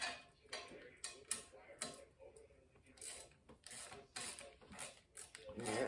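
A 10mm wrench turns a nut while mounting an Old Man Mountain Sherpa bike rack, giving a run of sharp ratcheting clicks in uneven bursts, close and moderately loud with no talk over them.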